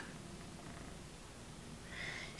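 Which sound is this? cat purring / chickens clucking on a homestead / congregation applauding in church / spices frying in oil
cat purring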